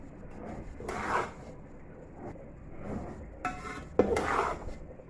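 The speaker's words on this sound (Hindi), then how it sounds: "चावलों का दम आ गया, अब इसको मैं मिक्स करूँगी और डिश आउट कर दूँगी" Cooked biryani rice being stirred and mixed in a pot, heard as a few separate bursts of scraping and clinking from the spoon against the metal, with quieter rustling between the strokes.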